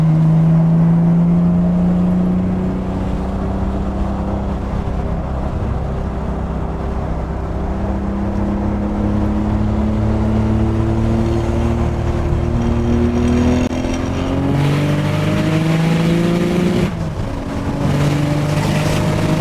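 A Nissan 300ZX twin turbo with dumped wastegates pulls hard through several gears, its loud engine note rising and dropping with each shift, with a sharp whoosh at a shift, heard from inside the car.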